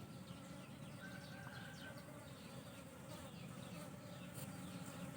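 Cavity-nesting honey bees gathering nectar from ripe mango, a dense steady buzz of many insects heard close and continuous throughout.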